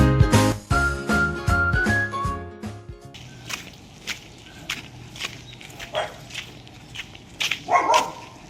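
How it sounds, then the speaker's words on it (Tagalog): A pet dog gives sharp barks close by, with jingling tags and household clatter mixed in, after a burst of loud music at the start. "ito nga pala yung aso ko si Teddy"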